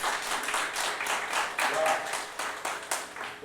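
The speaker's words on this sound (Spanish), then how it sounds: "¿Le puedes dar un fuerte aplauso a él?" An audience at an outdoor evangelistic gathering in El Jicote, Nayarit, applauds with fairly dense, steady clapping in uneven surges, and voices are audible through the applause.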